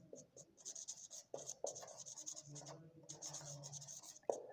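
Marker or chalk scratches on a board during a logarithm lesson, in short strokes and taps with brief pauses between words and symbols, close and fairly quiet.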